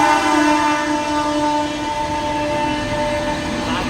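A train passes nearby with a steady, loud, sustained tonal drone, like a horn or whistle, over rumbling rail noise, with no talk.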